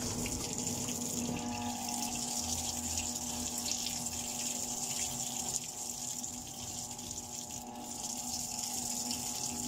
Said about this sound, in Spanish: se llena la tina que está abajo